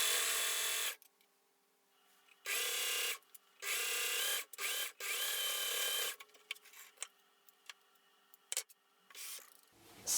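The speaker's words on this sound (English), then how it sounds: "I'm just gonna go ahead and sew this seam" A sewing machine stitches a seam on a lolita dress panel in bursts: several runs of steady high whir, a few seconds each, separated by short pauses and soft handling clicks, close and alone with no talk.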